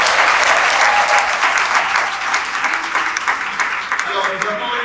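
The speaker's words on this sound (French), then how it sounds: "applaudissements." A crowd applauding at a school event about girls in science and technical fields, sustained loud clapping filling the room, with faint voices beneath it toward the end.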